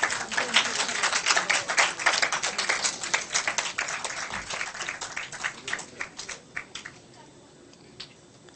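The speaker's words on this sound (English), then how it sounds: "We want more claps." A conference audience claps as presenters are called onto the stage; dense applause swells, then thins to scattered claps and fades out near the end.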